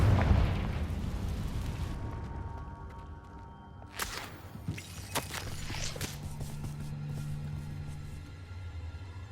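Confringo blasting curse from Hogwarts Legacy, a deep booming explosion that opens loud and rumbles off, followed by cracking debris and lighter impacts.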